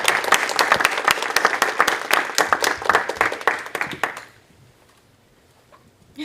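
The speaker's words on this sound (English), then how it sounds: "Let's give a round of applause." Audience applause fills a school board meeting room, a burst of brisk, close hand clapping that lasts about four seconds and then cuts off into near silence.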